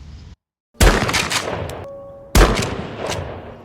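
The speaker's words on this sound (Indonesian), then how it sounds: "Terlihat Hana meluapkan kekesalannya dengan melatih tembak di bandara." Two loud, close gunshots at a shooting practice held at an airport, each a sharp crack followed by a ringing, echoing tail, about one and a half seconds apart after a brief silence.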